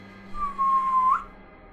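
Eerie whistling, heard as a single clear tone that holds steady and then bends upward at the end, faint and alone over a low hum.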